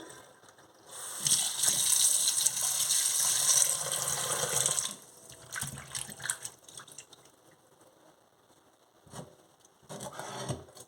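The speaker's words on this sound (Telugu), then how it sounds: "ఎండు చేప ముక్కల్ని వాష్ చేసుకొని క్లీన్ చేసుకొని పెట్టుకుందాం." Running water gushes from a tap for a few seconds, then pieces of dried fish are rubbed and sloshed in water with intermittent splashes.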